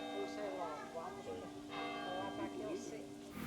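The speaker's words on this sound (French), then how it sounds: "il est en train de sonner la cloche." A church bell peals continuously in a small Galician town, the resonant ringing tones sustained throughout while someone talks over it.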